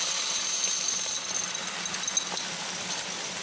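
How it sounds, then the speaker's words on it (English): Silica cat litter crystals stream into a plastic container, making a continuous bright, gritty hiss and rattle that holds steady throughout, close and fairly loud. "I'm going to pour in some of the kitty litter"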